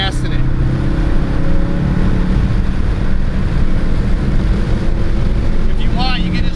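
Racing car accelerating on a track during an instructor ride-along, a loud in-cabin engine roar buffeted by wind noise, with a voice talking over it.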